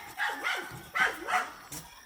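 Two small pet dogs bark in short bursts outdoors along a trail by a little stream, several sharp yaps close by at moderate volume.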